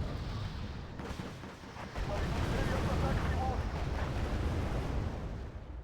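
Rocket pods fire in a video game, giving a rolling barrage of deep, rumbling blasts that swells partway through and stays dense and booming to the end.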